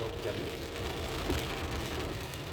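Heavy monsoon rain pours steadily over a Delhi street near Lodhi Colony, a continuous broadband hiss of downpour with faint traffic rumble beneath, no pauses across the stretch.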